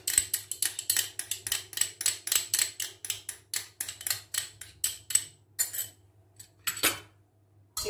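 A utensil whisks egg yolks with sugar and vanilla in a bowl, giving rapid rhythmic clinks that tick steadily against the bowl and then slow and thin out near the end, with no talking.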